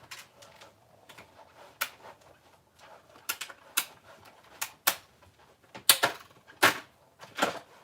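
A die cutting machine runs a cut at a crafting bench, giving off irregular, close clicks and sharp clacks that bunch together and grow louder toward the end, with quiet gaps between them.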